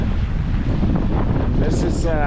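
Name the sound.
wind blowing at sea on a boat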